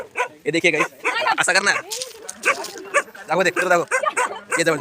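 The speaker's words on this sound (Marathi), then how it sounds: "सॉरी कुत्रे भेटले" Dogs bark and yip in Malavali, short bursts mixed among several people talking close by throughout.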